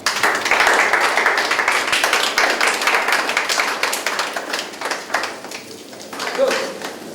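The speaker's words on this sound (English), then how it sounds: "Please clap for yourselves." A group of contestants claps at the end of a competition's preliminary stage, a dense patter of applause that continues under talk and fades toward the end.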